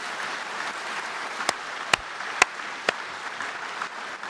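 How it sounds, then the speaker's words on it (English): Soft, steady applause from an audience at a municipal conference, a continuous distant patter of many hands with a few sharper claps standing out near the middle. "give her a great big round of applause"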